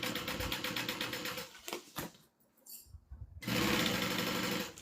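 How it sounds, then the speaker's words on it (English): A sewing machine stitches around bag handles, its rapid rattling run breaking off briefly for a few faint clicks and then resuming at full speed. "I'm going to be feeling to make sure I'm not accidentally sewing over like those handles while I'm going around"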